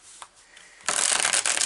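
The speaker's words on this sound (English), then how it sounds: "I'm just shuffling the cards here." Tarot cards are shuffled by hand: a few soft taps, then a loud, close burst of riffling and rustling paper.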